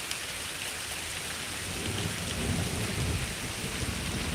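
Steady rain pours down during a thunderstorm, with low rumbling thunder building and swelling through the second half, all close and loud with no voices.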